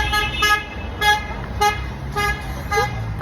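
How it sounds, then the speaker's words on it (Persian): Car horns honk for a wedding procession in the street, several loud toots in quick uneven bursts over the rumble of traffic. "عروسیشون هم مثل ماه بوق میزنن دهن ملت رو سرویس میکنن."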